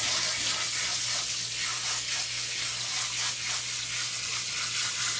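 Steady running water rinses dye out of a dog's fur during grooming, a continuous loud hiss and splash with a low hum underneath.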